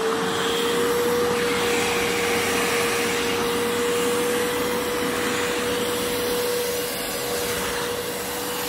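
A household vacuum cleaner works over a carpet with a loud, continuous whining roar and a steady tone, close by and uninterrupted for nearly nine seconds.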